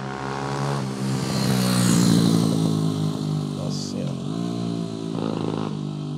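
A small motorcycle passes on a Brazilian street, its engine rising and falling in pitch close by, while a person talks over it.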